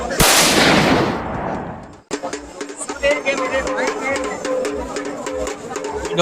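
A toy gun fires matchstick-head powder caps at a crowded Saraswati fair in Udala, Odisha. One sharp loud bang decays, then a busy fairground hum follows with voices and a steady mechanical rhythm close by.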